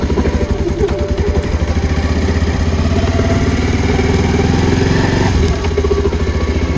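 A motorcycle engine runs steadily and loudly up close, a continuous rumbling idle with light clatter throughout, on a bike that has a punctured tyre.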